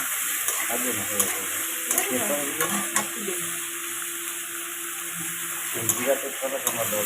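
Potatoes, papaya and chickpeas fry in a pan with a continuous close sizzle, punctuated by repeated spatula stirs and scrapes and a few sharp clicks.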